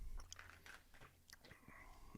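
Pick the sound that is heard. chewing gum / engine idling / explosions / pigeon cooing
chewing gum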